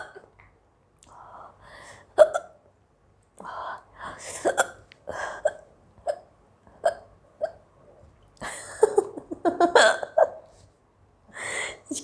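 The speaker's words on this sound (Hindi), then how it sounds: "मुझे हिचकी इतनी आ रही है" A woman hiccups repeatedly while eating, the sharp hiccups arriving in irregular bursts across the span, some loud and close, some softer, with faint breathy sounds between them.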